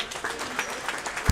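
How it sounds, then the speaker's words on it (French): Applause in a basketball gym welcoming the visiting Montpellier Basket Mosson team at a French NM2 game, a steady spatter of clapping lasting over a second with a sharp knock at the end. "Je vous demande de les applaudir."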